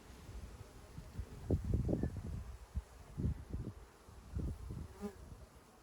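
Honeybees from a newly installed swarm buzz around an open top bar hive during an inspection, a close, steady drone with bursts of louder rustling and handling noise from the frames.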